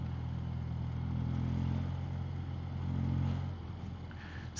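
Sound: BMW Airhead motorcycle engine running while riding

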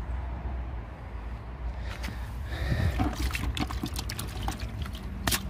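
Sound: rinsing a car-cleaning cloth in a water bucket

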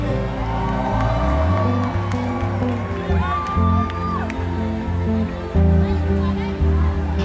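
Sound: concert crowd cheering and making noise

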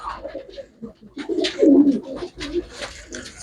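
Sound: pigeons cooing

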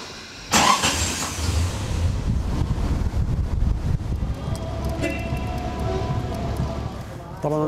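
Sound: antique car driving, engine running

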